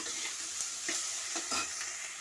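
Brinjal, onion and fried potato cook in a pan with a soft, faint sizzle while a spatula stirs them in a few light, evenly spaced scrapes.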